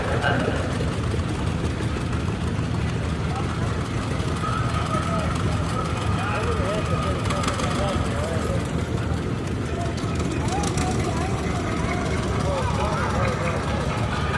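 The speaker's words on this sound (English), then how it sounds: "Year number 196, John Deere 620" A John Deere 620 tractor engine runs at an outdoor threshing show parade, a steady rumble mixed into crowd noise while someone talks over the loudspeaker throughout.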